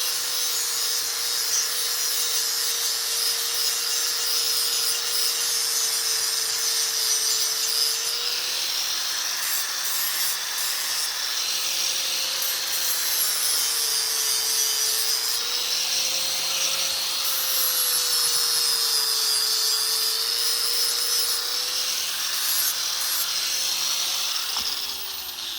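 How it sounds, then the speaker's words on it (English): An 80 grit grinding wheel sharpens a John Deere L130 48-inch deck mower blade in a steady, loud, continuous metallic grind. The pitch wavers slightly as the blade is pressed and moved, then it stops near the end. "This is grinding wheels, the 80 grit."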